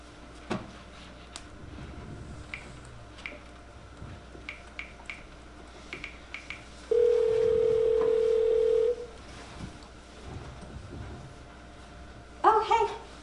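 A telephone dial tone sounds as someone makes a call, a steady pure hum running for about two seconds in the middle, surrounded by quiet room noise, small clicks and a brief burst of sound near the end.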